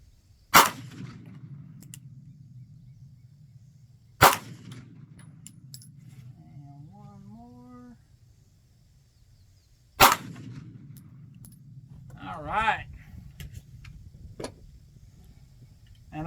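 A Heckler and Koch USP Expert pistol fires three sharp, loud single shots several seconds apart at an outdoor range, each with a short ringing tail, with quiet handling clicks between them.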